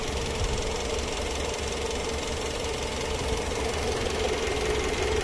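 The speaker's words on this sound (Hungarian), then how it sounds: "Méghozzá ez a benzinmotor is szépen működik." A Renault Clio 1.2 16V petrol engine idles steadily in a continuous, even run with a faint knocking texture. No voices are heard.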